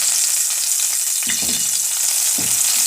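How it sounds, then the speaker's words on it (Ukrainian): Steady, loud sizzling of pancakes frying in hot lard, a dense crackling hiss throughout with a couple of soft thuds or scrapes. "Ось так чудово смажаться наші блінчики на вугле смальцю."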